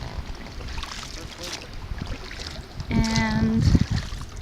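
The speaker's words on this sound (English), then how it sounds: "We are rowing to shore." Oars splash and knock as a dinghy is rowed to shore after anchoring at Burke Lake, Florida. Wind buffets the microphone, and a sharp creaking squeal, likely from the oarlocks, rises near the end.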